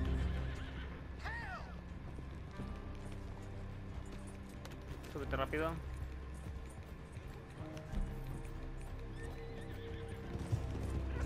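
A horse in the video game Red Dead Online whinnies twice, high and shrill, over steady hoofbeats and background music; a voice speaks briefly.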